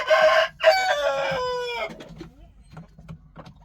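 A rooster, one of a flock of moulting hens and roosters in a farm coop, crows once loudly and close by, with a brief break at the start, followed by faint clucking and scratching.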